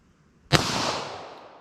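A single sharp pistol shot fired at a car windshield, close and loud, with a bright crack that rings out into a long, slowly fading tail.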